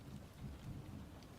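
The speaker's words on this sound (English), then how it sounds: "I'm like listening to rain, fake rain, and there's just a massive thunderclap outside, like in the real world" Faint, steady recorded rain hisses with a low rumble of thunder underneath, all quiet and distant without any voices.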